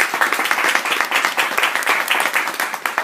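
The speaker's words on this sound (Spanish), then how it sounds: "Sí me gustaría que la recibiésemos con un fuerte aplauso." An audience at a Spanish book presentation applauds warmly to welcome the author, a loud, dense and sustained burst of many hands clapping together.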